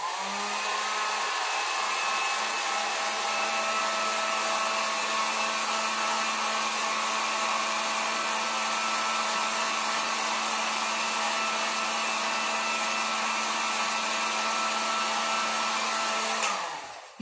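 A hair dryer blowing steadily close by to speed-dry a birch tree candle craft, a loud continuous whooshing hum with a steady motor tone that runs unbroken before cutting off at the end; no talk.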